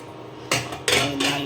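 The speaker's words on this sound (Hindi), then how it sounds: "अब कुकर को बंद कर देते हैं" A pressure cooker lid is fitted and clamped shut on a pot of dal in a home kitchen, giving three sharp metallic clanks spaced through a second, close and loud.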